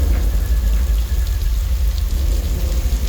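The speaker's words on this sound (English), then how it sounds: "Sprinklers right above the cameras, and the water just falls down naturally. We'll have strobe lights for lightning and speakers for thunder." Simulated rain and thunder on a Universal Studios Hollywood backlot tour, made with overhead sprinklers and speakers, give a loud steady hiss of falling water over a deep continuous rumble, with no voices.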